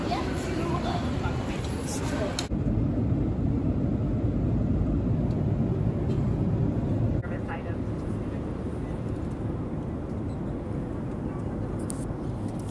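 Steady, loud airplane cabin noise heard during a 5.5-hour flight as it approaches landing, a continuous broadband roar with a slight shift in tone partway through and no other distinct sounds.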